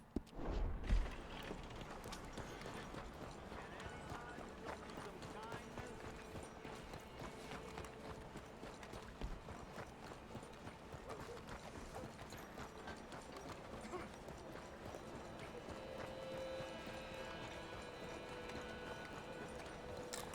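Continuous clip-clop of horse hooves in Red Dead Redemption 2 at a steady trotting rhythm, with faint mechanical clicking and a low background hum throughout.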